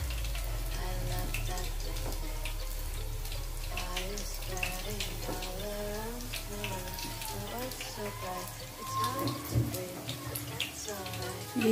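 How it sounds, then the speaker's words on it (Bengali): Small topse fish fry in hot oil in a pan over low gas, giving a steady close sizzle and crackle throughout while someone talks over it. "এইভাবে আমি আস্তে আস্তে ভেজে নেবো, এইগুলো ফ্রাই করে নেবো।"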